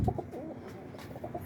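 Boston roller pigeons in a breeding loft coo softly in short, repeated low bursts, fairly close, with no talking.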